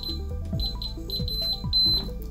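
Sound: keypad door alarm beeping

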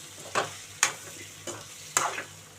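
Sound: curry leaves added to frying bitter gourd

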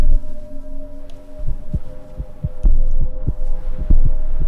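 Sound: heartbeat sound in video game From The Darkness

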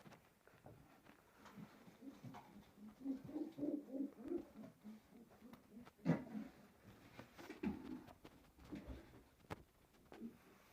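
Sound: pigeon cooing

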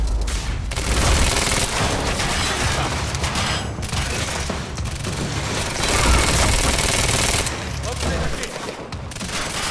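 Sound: gunfire in the video game Quantum Break

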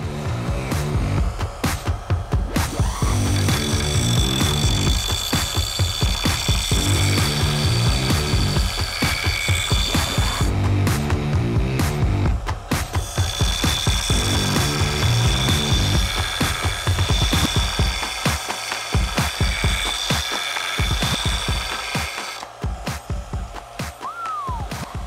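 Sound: cheap power sander sanding a Harbor Freight axe

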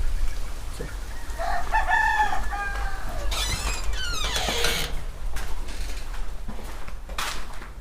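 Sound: chickens clucking in brooding room

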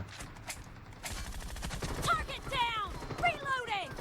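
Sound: Groza rifle gunfire in PUBG Mobile video game

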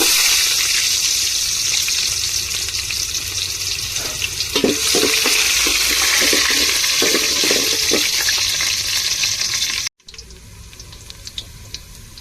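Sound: onions frying in oil

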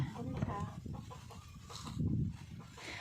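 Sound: chickens clucking in a garden

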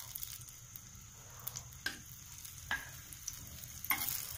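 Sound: green chillies frying in hot oil

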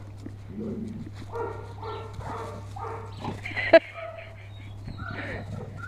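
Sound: dogs playing and barking

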